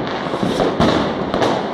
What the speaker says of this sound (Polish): Puszczam petardę, jak już jest 12.